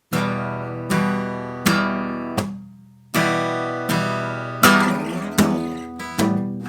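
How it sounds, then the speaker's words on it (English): Acoustic guitar chords are strummed down in a steady pattern, each hit sharp and ringing before the next, with one short palm-muted stop partway through. "just do the 3 down strums in 1 mute."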